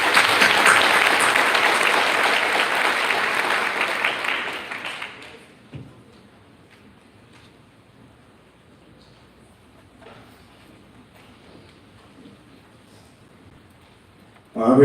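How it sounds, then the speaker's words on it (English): A high-school spring athletics banquet audience breaks into loud, sustained applause for the athletes for about five seconds, then the hall falls quiet with faint shuffling and murmurs. "Let's give all these athletes one round of applause."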